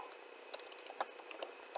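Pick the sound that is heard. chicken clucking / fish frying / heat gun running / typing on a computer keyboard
typing on a computer keyboard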